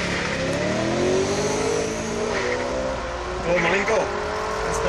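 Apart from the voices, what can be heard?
two BMW M3 cars accelerating in a race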